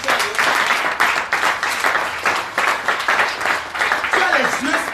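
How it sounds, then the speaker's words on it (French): A church congregation claps and applauds for Jesus in steady, rhythmic waves, loud and close, with a voice speaking over the clapping. "Acclame Jésus."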